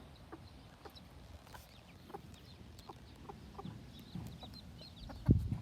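Newly hatched baby chickens, only a day old, give soft, faint clucks and chirps over a quiet outdoor background, ending in a brief louder thump.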